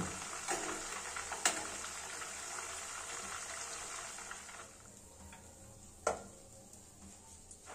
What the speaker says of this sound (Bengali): আলুর টুকরোগুলো তেলে দিয়ে দেব।